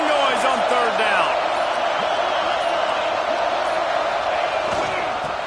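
Steady, dense stadium crowd roar from a football video game swells on third down, a continuous wall of noise with faint tonal whistles and calls riding over it, loud throughout and gradually easing at the end.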